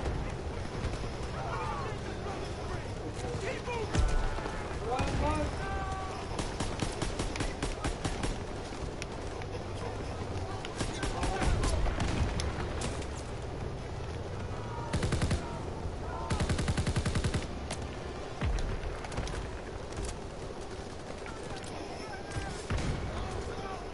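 Rapid bursts of automatic gunfire and scattered single shots rattle through a Call of Duty WW2 battle, repeated clusters of sharp cracks over a busy background, with occasional voices talking underneath.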